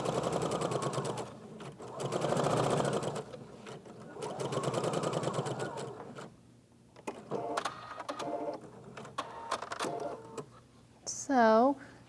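A sewing machine runs base stitches across a sleeve cap in several steady, whirring bursts of rapid mechanical chatter, pausing between runs, with a person talking over and between the stitching.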